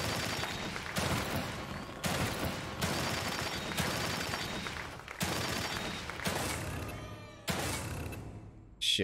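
In the video game The Evil Within 2, bursts of explosions and gunfire come in repeated loud blasts separated by short breaks, each burst fading before the next.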